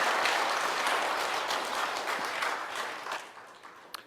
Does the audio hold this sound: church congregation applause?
yes